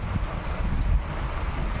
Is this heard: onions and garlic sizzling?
no